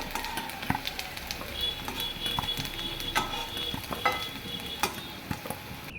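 Potatoes fry in a wok until reddish-brown, giving a close, continuous sizzle broken by sharp scraping and stirring clacks at an irregular rhythm, with no talking.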